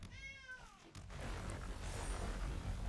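A cat meows when a cat card is cast in the MTG Arena video game: one short, clear meow with a falling pitch, followed by steady, busy game background sound.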